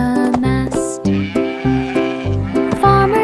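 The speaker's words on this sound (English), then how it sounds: "Sheep and cows waved as they passed." Sheep bleating in a cartoon farm song for children, a loud series of close, wavering bleats repeating in quick rhythm over a musical backing.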